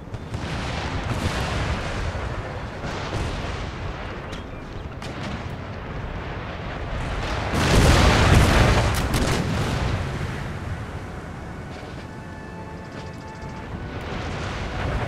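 Round-shot artillery fire in the game Empire: Total War, a steady rumbling barrage of booms with a louder, heavier swell of blasts midway, continuous and fairly close, with no voices.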